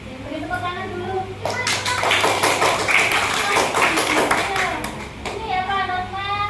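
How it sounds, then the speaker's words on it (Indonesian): Applause from a group, likely a classroom of children, with dense clapping rising in the middle over a few seconds, framed by a voice talking before and after. "Beri tepuk tangan dulu."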